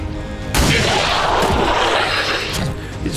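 A loud gunshot blast in XCOM 2, a heavy booming crack that rings out and decays slowly, followed by a second sharper impact near the end; no voices.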